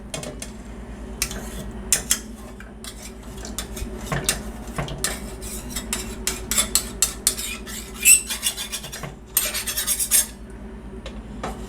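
A metal spoon scrapes and clinks against the side of a pot of dye-free chocolate pudding heating on a stovetop, producing repeated close, sharp scrapes and taps in an irregular rhythm with no talking.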